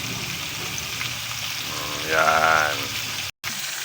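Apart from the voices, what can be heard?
frying chicken in a pan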